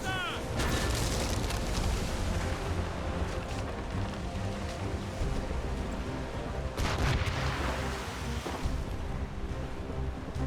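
Booming ship cannon volleys in the Assassin's Creed Rogue naval battle, dense rumbling blasts layered over continuous battle noise and crashing, with a sharp burst of fresh fire near the end and voices faintly mixed in.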